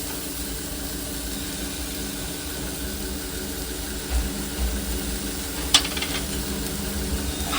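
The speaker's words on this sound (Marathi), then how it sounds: "गॅस फास्ट करायचा याचा आता आणि त्याला चांगलं ढवळायचं" Soybean curry is stirred in a pan over a high gas flame, a continuous close sizzle with a faint background hum and a single sharp scrape of the spoon near the end.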